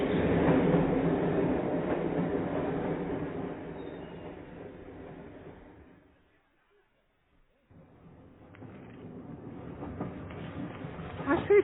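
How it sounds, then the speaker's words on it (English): A train pulls into a station in a radio comedy, a loud, steady rumble of carriages that slows and fades to near silence before a fainter rumble picks up again. "The train. Here it comes at last."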